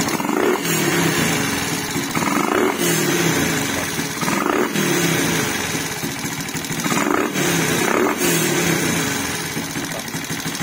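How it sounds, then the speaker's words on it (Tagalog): Loud exhaust pipe of a hot Raider 150 Fi motorcycle with a 32mm throttle body, idling close by and blipped in several short revs that rise and fall at a steady interval, with no talking. "tumigas yung tunog ng ating pipe"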